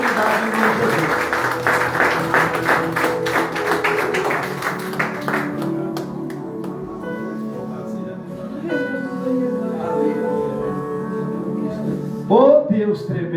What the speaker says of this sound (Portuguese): Se você pode, aplauda bem forte ao Senhor nesta noite.